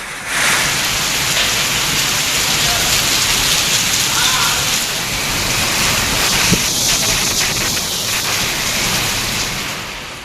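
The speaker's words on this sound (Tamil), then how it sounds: "வந்தவாசி மற்றும் அதனை சுற்றியுள்ள பல்வேறு பகுதிகளில் இடியுடன் கூடிய கனமழை பெய்ததால்" Heavy rain pours steadily in Vandavasi, Tamil Nadu, a dense continuous hiss of downpour across the whole stretch, with no distinct thunder clap standing out.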